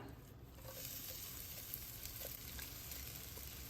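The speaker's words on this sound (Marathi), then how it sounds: "भोपळा चांगला तुपावर आपल्याला परतून घ्यायचा आहे" Pumpkin pieces sautéing in ghee in a pan over low-to-medium flame, giving a steady, moderate sizzle with faint scraping, close and continuous without talk.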